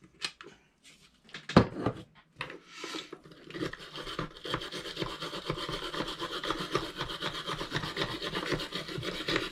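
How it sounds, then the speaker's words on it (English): Someone scrubs the spool of a vintage pre-WWII Sunnybrook bait cast reel, coated in penetrating oil, while rotating it. A few scattered handling scrapes give way to close, continuous brisk brushing strokes. "Trying to rotate that spool as I'm scrubbing it, just so I can try to get all of it."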